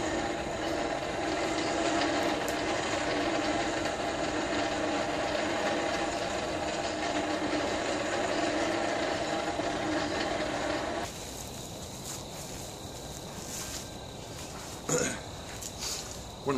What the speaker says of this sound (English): Nice thing about having this big old champion 400 blower, as opposed to the smaller blower on the little forge over there, this thing creates some serious air volume